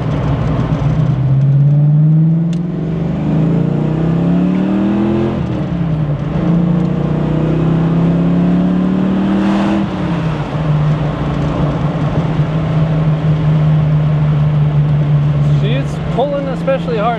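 A Ford Foxbody Mustang engine revs under about three-quarter throttle, its pitch climbing and falling in repeated pulls before settling to a steady drone, heard from inside the car over road noise.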